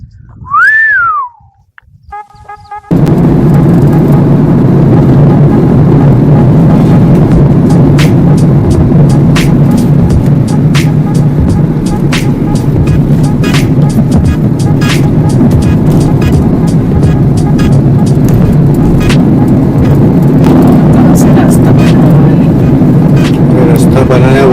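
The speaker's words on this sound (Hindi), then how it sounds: "अब हमारी गाड़ी लेंगे और बढ़ेंगे जगमेर हिल" A car drives along a paved road toward Jagmer Hill through a tribal area of Banswara. After a brief whistle at the start, a loud, steady rumble of engine and road noise carries on without a break.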